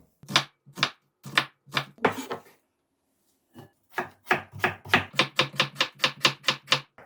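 A knife chops onion on a cutting board for kimchi, giving crisp, close taps: a few spaced strokes, a short pause, then a faster even run of chops with no talk.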